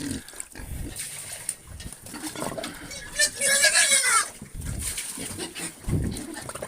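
Hungry pigs squeal and grunt in a pen just before feeding, with a loud burst of shrill squealing in the middle while someone talks over the noisy animals.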